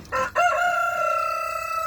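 A chicken in a homestead pen sounds close and loud, a short sharp cluck followed by a sustained, wavering crowing call that holds steady to the end, with no talk.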